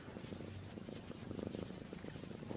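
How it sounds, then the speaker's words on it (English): A pregnant cat purrs close to the microphone, a low, continuous rumbling with a steady pulsing rhythm and no talking over it. "Let's see if I can get her purring."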